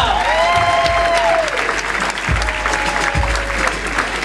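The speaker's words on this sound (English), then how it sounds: "Start clapping up, everybody, for Al Goodwin." Comedy club audience applauds and cheers in a steady burst of clapping, with whoops and crowd voices rising over it, dense and close throughout.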